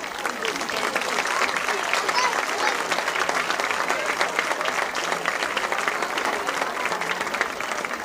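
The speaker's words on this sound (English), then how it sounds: "Please give a generous round of applause for our seniors, their parents, and their grandparents." A stadium crowd at a Red Bay vs Lamar County high school football game gives seniors and their families long, steady applause with some cheering, loud and sustained throughout.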